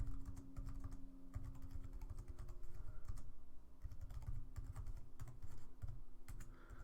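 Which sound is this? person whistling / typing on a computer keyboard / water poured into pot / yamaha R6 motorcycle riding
typing on a computer keyboard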